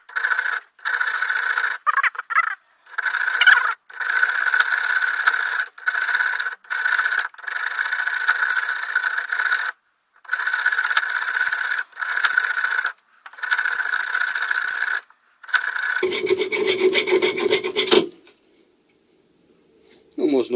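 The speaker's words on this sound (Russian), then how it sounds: "Тесты пилы по металлу." A metal saw on a SOG PowerAssist multitool cutting, with repeated rasping strokes in bursts separated by short pauses, loud and close, ending in a few lower scraping sounds.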